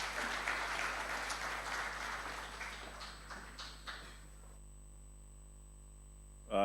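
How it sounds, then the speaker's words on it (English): A conference audience applauds a chairman as he comes on stage at an opening ceremony. The clapping is moderately distant and steady, then thins out and fades into near silence. "Let's give him a round of applause,"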